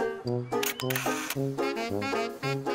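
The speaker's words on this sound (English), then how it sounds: "okay, Julian, the camera's ready to go." A cartoon camera shutter clicks over and over in quick, even succession, crisp and close, each snap bright and sharp against a busy musical background.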